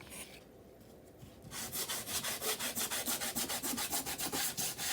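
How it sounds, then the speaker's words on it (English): Steady back-and-forth scraping of sanding on a painted wooden surface, rhythmic strokes starting after a quieter moment and continuing evenly, close and fairly loud. "Let me see if sanding helps."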